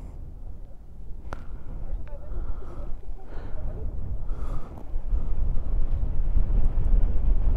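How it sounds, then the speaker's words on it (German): Heavy wind buffets the microphone with a steady low rumble, growing stronger toward the end, while people talk intermittently underneath. "Boah, ist so windig."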